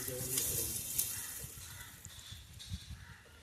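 Mustard seeds and cumin sizzling in hot oil as a tempering for homemade Konkan-style gooseberry pickle, a steady crackling hiss with small pops, under faint background voices.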